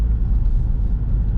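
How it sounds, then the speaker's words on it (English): A 2020 Ford Mustang EcoBoost four-cylinder with a modified exhaust, a loud, deep, steady rumble heard close from inside while driving, with no talk. "with whatever that person before did to the exhaust, it definitely has an interesting sound to it, and sounds kind of mean too"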